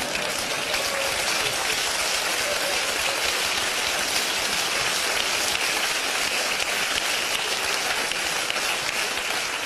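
Steady, dense audience applause at a German cabaret stage show, loud and continuous throughout like heavy rain, with no pauses.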